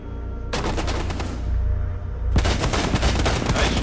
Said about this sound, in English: Just shot him right through the bar, Steph.